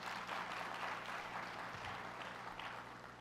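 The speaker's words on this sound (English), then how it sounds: "Let's give them a round of applause." A community briefing audience applauds the elected officials standing in the room, a soft, distant wash of steady clapping that tapers slightly toward the end.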